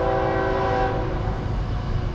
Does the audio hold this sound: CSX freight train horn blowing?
yes